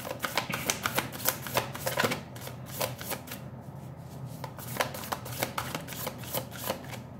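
Tarot cards are handled and shuffled close up in quick runs of crisp riffling clicks and slaps, pausing briefly midway before resuming; the setting is quiet and no one speaks.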